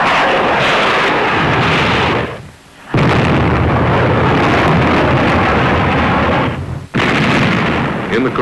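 The WWII battleship USS New Jersey fires its guns in shore bombardment as a loud, sustained roar with two abrupt breaks, heard under narration.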